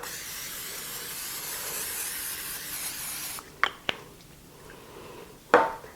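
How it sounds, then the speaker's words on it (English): Nonstick cooking spray hisses in a steady burst into a 9x13 baking dish, followed by a few sharp clinks and knocks of the can and dish. "I'm going to spray it with some nonstick cooking spray."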